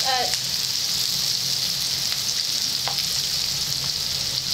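Ground onion paste frying in a pan, a dense continuous sizzle that stays close and even for several seconds, with a brief faint voice near the start.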